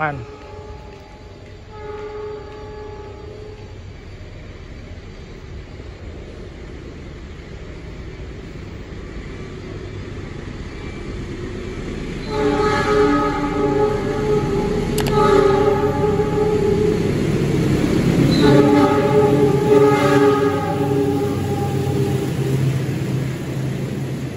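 Wijaya Kusuma passenger train, carrying executive and economy classes, at Lempuyangan station, Indonesia: a steady rail rumble with a tonal horn-like chord swelling in the second half, mid-distance, with talk over it.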